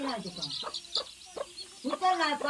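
Chickens cluck near a clay house in rural Konkan, a run of short repeated clucks and squawks, with people talking faintly in the background.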